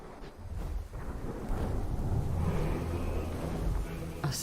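A thunderstorm rumbles in the video game World of Warcraft: Dragonflight, a low, continuous roar with wind-like noise swelling over a few seconds.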